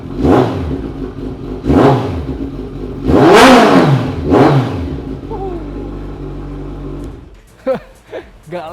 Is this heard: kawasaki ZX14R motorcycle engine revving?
yes